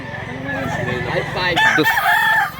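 A white rooster crows loudly and close by, a single drawn-out call with people talking over it.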